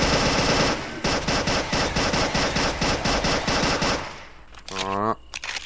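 Rapid automatic gunfire from a zombie shooter video game: loud, fast bursts of repeated shots for about four seconds, then a pause and a short electronic tone sequence with a few more shots.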